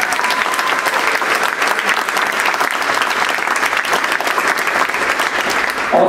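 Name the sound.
audience applause at a school concert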